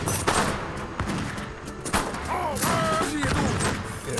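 Grenadiers firing in an Age of Empires 3 battle: repeated thuds and gunfire pops over a busy battle din, with a voice talking over part of it.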